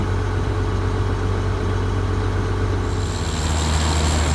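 A combine harvester engine with a plugged fuel system runs steadily at half throttle, a deep continuous rumble with a droning low hum, close by and unchanging.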